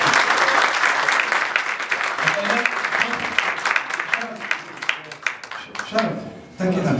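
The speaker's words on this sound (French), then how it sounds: "on l'applaudit très fort" Audience applause at a conference, loud dense clapping from a crowd that slowly thins and fades, with voices breaking in near the end.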